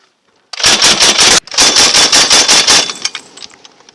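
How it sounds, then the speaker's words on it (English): Mark 19 40mm grenade machine gun firing at a military exercise, two loud, close bursts of rapid, evenly spaced heavy thumps separated by a brief gap, fading into an echoing tail. "fires a Mark 19 40mm machine gun grenade during Exercise Shinka"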